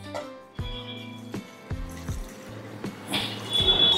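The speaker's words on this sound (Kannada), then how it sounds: "ಇದಕ್ಕೆ 1 ಗ್ಲಾಸ್ ನೀರು" A glass of water is poured into a cooking pot, with a close watery trickle and hollow ringing tones from the vessel that build into a fuller splash near the end.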